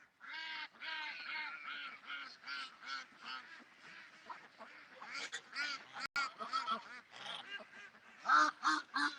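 A flock of ducks quack and honk continuously in a busy morning chorus, with overlapping calls rising to louder bursts near the end.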